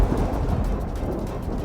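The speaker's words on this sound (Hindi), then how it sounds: "अच्छा है बारिश हो रही है," Rain falls steadily during a thunderstorm, with a deep low rumble of thunder underneath, continuous and moderately loud for a short stretch with no voices.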